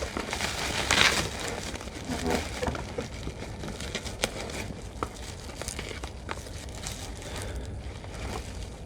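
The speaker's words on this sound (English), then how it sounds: "So let's go ahead and unwrap it." Items from a beauty subscription box being unwrapped, with crinkling and tearing of wrapping paper, loudest near the start and then continuing as softer rustles and occasional crackles, close and quiet with no voices.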